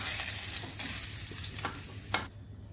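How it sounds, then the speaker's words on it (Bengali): Fish fries in oil with a steady, bright sizzle and a few scraping stirs, fairly quiet and close, before the hiss cuts off near the end. "এই মাছগুলো ভেজে নিচ্ছি"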